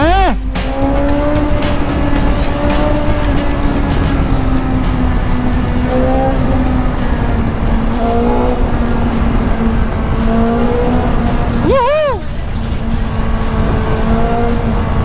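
A 2022 BMW S1000XR motorcycle with an aftermarket Akrapovič exhaust drones roughly and raspily at close range, its pitch wavering slightly, with a brief revving swell near the end.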